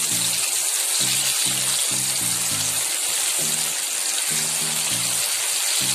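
Batter-coated yam pieces, mixed in a masala coating for yam 65, fry in well-heated oil with a constant dense sizzle and crackle, and a low rhythmic thumping runs beneath it.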